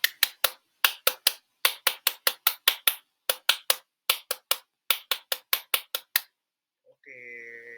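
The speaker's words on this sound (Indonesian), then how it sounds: "kita sudah melakukan tepuk pramuka" A group performs the rhythmic Indonesian scout clap (tepuk pramuka): crisp, sharp hand claps in repeating patterned bursts with brief pauses between phrases, ending in a short tonal sound afterward.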